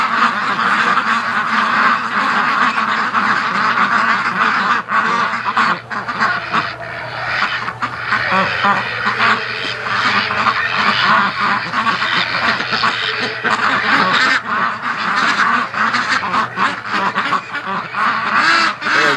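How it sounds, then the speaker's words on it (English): Many farm-raised ducks in a swamp quack and honk together in a steady, busy chorus, with a low hum running underneath throughout. "Spooking the ducks."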